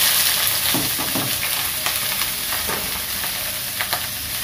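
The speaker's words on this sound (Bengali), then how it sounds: "তেল গরম হয়ে গেছে, পেঁয়াজ আর কাঁচামরিচ দিয়ে দিলাম" Onions and green chillies frying in hot oil, a loud, continuous sizzle with spoon-stirring scrapes and clatters breaking through now and then, close up and with no voices.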